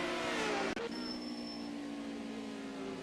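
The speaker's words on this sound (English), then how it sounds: "I love listening to the roar of these engines." Race car engines roar in a DTM sim racing video game, a steady, fairly quiet engine drone with a brief sharp click or shift partway through and no speech.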